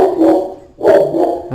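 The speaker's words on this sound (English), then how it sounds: "That is my dog." A pet dog barks twice, close and fairly loud, with a short gap between the barks and a quieter yip at the end, in an indoor room where someone is painting paper crafts.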